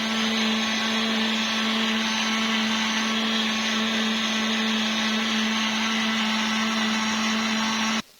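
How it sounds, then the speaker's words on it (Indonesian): A blender grinding mung bean flour, a loud continuous high-pitched whirring hum held steady for about eight seconds before cutting off abruptly. "Aku giling dikit-dikit ya."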